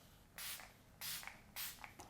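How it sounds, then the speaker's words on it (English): Setting spray misted onto a face from a pump bottle, three separate hissing bursts, each about half a second long, close and fairly quiet. "Next, you take your setting spray or anything that works for you and drench your face"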